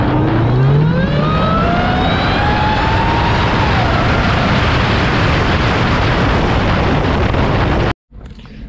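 A Hellcat-converted Chrysler 300 on a test drive roars loudly from close range, its engine note climbing steadily under heavy rushing wind and road noise, then cutting off abruptly near the end.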